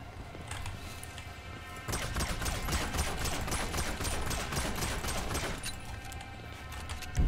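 Rapid sustained automatic gunfire from a weapon in GTA V, a dense crackling stream of shots that swells after the first couple of seconds and continues steadily, fairly close, with no talk over it.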